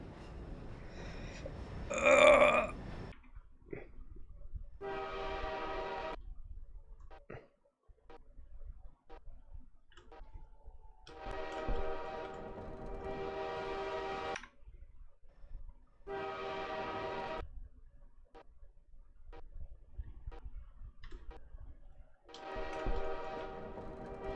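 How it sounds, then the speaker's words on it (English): A train in Half-Life 2 sounds a loud horn blast early on, followed by repeated long droning tonal horn-like notes separated by quieter rumbling gaps, moderately distant. "I'm not afraid of no train."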